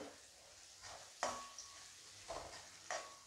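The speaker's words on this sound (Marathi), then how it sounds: "आता मी यात अर्धा चम्मच मीठ घालते चवीनुसार आणि हे ढवळून घेते।" Salt being stirred into a cooked coriander mixture for kothimbir bhaji: a few faint spoon scrapes against the pan over a quiet sizzle, with no voices.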